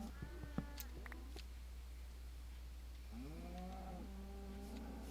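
Cows in a video game moo in drawn-out, low lowing calls, one early and another longer one near the end, over a steady electrical hum with faint clicks.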